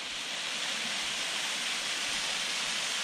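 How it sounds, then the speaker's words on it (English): The Bald Hills waterfall in Coolah Tops National Park roars with a constant, broad rushing hiss of falling water, steady and unbroken, with no voices. "Bald Hills waterfalls"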